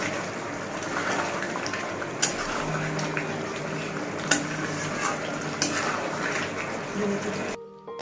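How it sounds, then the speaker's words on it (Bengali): Potatoes and mutton for a thin goat curry are stirred in hot oil in a pan, a dense continuous sizzle with occasional sharp utensil knocks, close up, ending abruptly near the end. "এবার আলুগুলো দিয়ে আর একটু কষিয়ে নেব"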